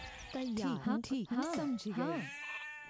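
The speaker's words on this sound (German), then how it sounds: "Oh mein Gott, die ganzen Schafe hier." Sheep bleat repeatedly in the Rage of Empires strategy game, several quick wavering calls in a row, loud and close, ending in a short tail.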